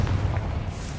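A Confringo blasting spell in Hogwarts Legacy erupts in a short, loud, booming burst with a deep rumbling body that holds for the full second, alone without talk.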